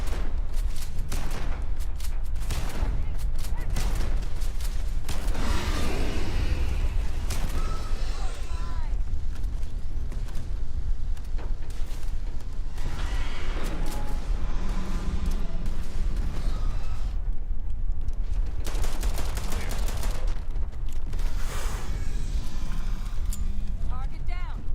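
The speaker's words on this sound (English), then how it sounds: "Shotgun." Shotgun blasts in the space game Starfield, heavy irregular shots scattered through a loud chaotic fight with booms and effects, while people talk throughout.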